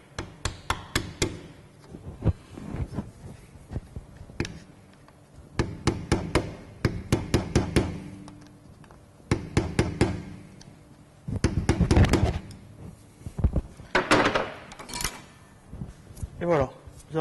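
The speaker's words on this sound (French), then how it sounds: "je vais le taper au bord à l'aide d'un tournevis" A hammer strikes a screwdriver held against the edge of a rear brake drum cap on a Ford Fiesta, producing repeated sharp metallic taps in irregular bursts close by, with someone talking at times.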